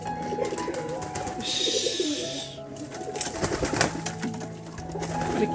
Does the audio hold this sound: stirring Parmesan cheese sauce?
no